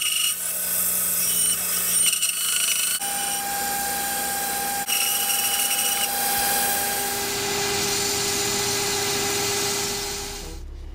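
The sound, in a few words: sander shaping wooden toy axe handle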